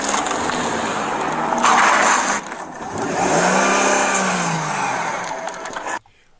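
A fleeing driver's car engine revs hard and loud, then surges again in a rising, falling whine before cutting off abruptly, with no talk heard.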